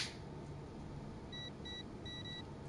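A handful of short, high electronic beeps from a safe's combination keypad in the wrestling video game WWE 2K20, sounding in quick pairs over a low, steady ambient hum.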